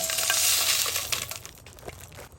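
Raw whole spices stirred and dry-roasted in a hot pan: a loud, rattling, scraping sizzle at first that eases off as the stirring continues, with a few sharp clicks and no talk.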